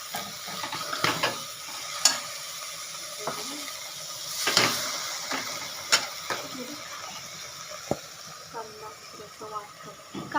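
Soybeans with spices sizzling in a pan with onion and tomato, stirred with a utensil that scrapes and clinks now and then under a steady frying hiss.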